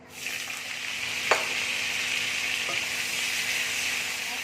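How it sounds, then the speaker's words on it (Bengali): Cauliflower frying in hot oil for navratan pulao, a loud, even sizzle starting abruptly and holding steady, with a couple of faint clicks of utensils. "যে তেলে আমি ভেজেছিলাম সেই তেলের মধ্যেই আমি ফুলকপিটা দিয়ে দিচ্ছি"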